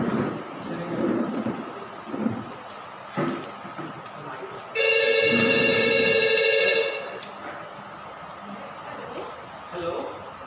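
Telephone ringing in a teachers' Children's Day skit, a loud electronic ring lasting about two seconds in the middle, with voices and light laughter before and after.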